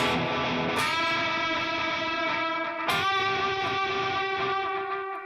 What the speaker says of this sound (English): Do you hear how the extra dirt amplifies and makes the reverb and delay bloom more with the signal?